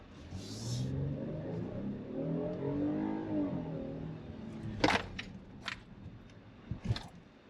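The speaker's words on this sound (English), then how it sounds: "Speed it up and slam the brakes to see how that vehicle behaves." A 2023 Kia Telluride SX Prestige SUV engine accelerates with rising pitch, then fades, followed by sharp bursts of tire screech and clunks as it stops hard.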